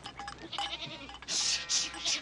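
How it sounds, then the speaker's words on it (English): A black and white goat bleats in a barnyard where sheep are also being handled, with a few loud, rough, quavering cries following one another after some quieter scuffling. "would you go in and get that black and white goat?"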